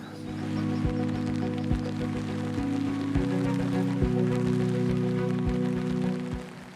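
Steady rain pattering on a surface beside a carp lake, a soft continuous hiss with faint low hum and occasional light knocks, no voices.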